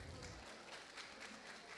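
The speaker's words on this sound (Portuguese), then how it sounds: "Aplausos para a Alana." Audience applause at a live panel event, a dense continuous patter of many hands clapping, fairly distant and even throughout.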